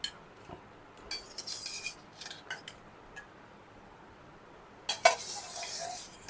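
Lightly salted boiled drumsticks being lifted onto a plate, heard as scattered clinks and scrapes of utensils against crockery, with a sharp clatter near the end and quiet gaps between.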